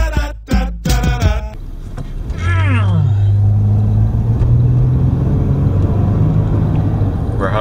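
An old car dubbed the grandpa car, driven hard with its engine revving loud and close, a steady low drone and rising whine after a burst of talk and music at the start.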